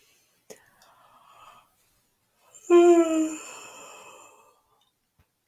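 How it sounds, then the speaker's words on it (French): Deep breathing during alternate nostril breathing in a calm self-care routine: a soft, faint inhale, a short pause, then one loud, long, airy exhale close to the microphone that slowly fades, with no talking. "je vais prendre 3 grandes respirations"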